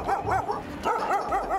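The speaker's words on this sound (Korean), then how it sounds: "밤낮으로 들려온다는 개 짖는 소리는 이 마을 주민들에게 싫어도 익숙해져야만 하는 소음입니다" Several abandoned dogs penned behind wire fencing in a village bark repeatedly in overlapping bursts, loud and close, with yelping tones between barks.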